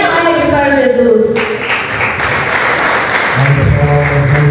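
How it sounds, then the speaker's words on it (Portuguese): A church congregation bursts into applause, a dense wash of clapping that swells and continues steadily, with a voice speaking over it near the start and again toward the end. "Receba o servo do Senhor com aquelas palmas bem alegres para Jesus."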